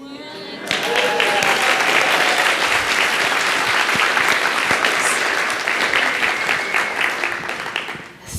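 Audience applause breaking out after a child's Frozen bot demo, a sustained dense clapping from a crowd that starts suddenly and holds for several seconds before tapering off.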